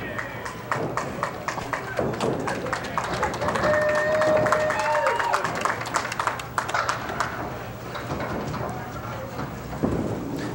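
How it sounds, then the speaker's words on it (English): A crowd applauds at a bowling tournament, a dense patter of clapping that swells and fades over about ten seconds while a commentator talks over it. "They'll clap for anything."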